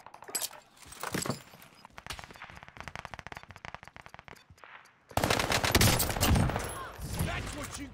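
An Armaguerra submachine gun firing in a video game, rapid bursts of close, loud automatic shots with clicking mechanical sounds between them, ending in a dense, heavy volley.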